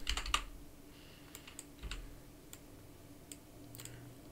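Keys on a computer keyboard are tapped in short, quiet bursts with irregular gaps, close by and alone with no talking.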